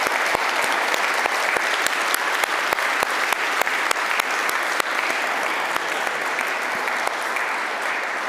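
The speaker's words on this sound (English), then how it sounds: "A warm applause for Stuart White." An audience at a lecture on economic fairness gives steady, sustained applause, a dense even wash of many hands clapping with no voices over it.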